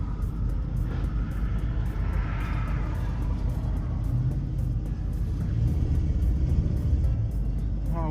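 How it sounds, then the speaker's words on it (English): A box Chevy idles with a steady low exhaust rumble, and loose O2 sensor bolts add a light metallic rattle over it throughout, close and continuous. "I wonder what that rattling is though. He told me that's the O2 sensor bolts."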